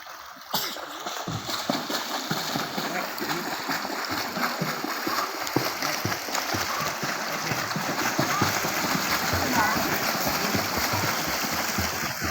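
A child swimming in the sea, with steady splashing and sloshing water throughout, fairly close and continuous, and a faint voice now and then.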